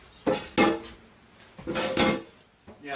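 Dirty dishes clatter in a kitchen sink, several separate loud clinks and knocks of plates and cutlery close by, with quiet gaps between the bursts.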